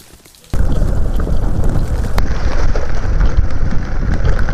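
Steady broadband rain on a road, loud and continuous after a brief quieter start, with no voices over it.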